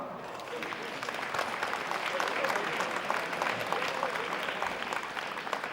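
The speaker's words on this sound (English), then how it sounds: "both teams deserve a fantastic round of applause" Steady applause from a crowd at a sports championship final, moderately distant and sustained throughout without any spoken voices.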